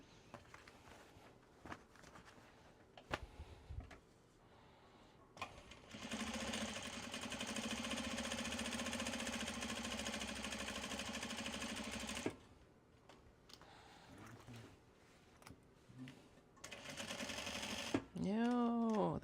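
Sewing machine running a top stitch line on a traveler sling, a steady mechanical whir lasting several seconds between quieter handling clicks and a later short burst of stitching, with a person talking at times.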